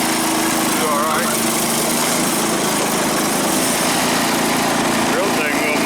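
A Wheel Horse 315 lawn tractor engine runs steadily and loud at close range, a constant buzzing drone with no pauses and no talk.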